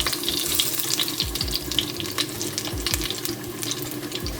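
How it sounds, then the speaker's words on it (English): Cardamom and bay leaves frying in a pot for chicken biryani, giving a steady, close sizzle with scattered crackles and soft stirring knocks throughout. "I'm gonna wait this to fry a little bit."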